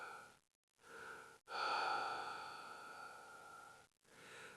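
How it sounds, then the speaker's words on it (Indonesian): Slow, drawn-out breathing fills a horror story scene, with a few soft breaths and pauses before one long, close exhale that fades away, heard alone without talk. "Namun suara napas pelan terdengar lagi."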